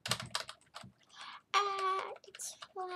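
Rapid clicking of computer keyboard typing, close by, followed by tonal electronic sounds and voice-like bursts from the Roblox game.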